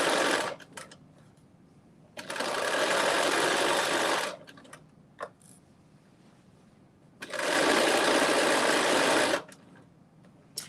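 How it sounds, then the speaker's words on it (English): A sewing machine runs in two sustained bursts while stitching the side seams of a knit dress at a 5/8 inch seam allowance, with quieter handling noise in the pauses between runs. "we are now sewing the side seams together"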